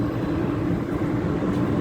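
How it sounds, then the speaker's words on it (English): A Calgary Transit C-Train light rail train pulls into a station with a steady, loud low rumble and rolling wheel noise close by, with no talking. "the train on this side where it's pulling in"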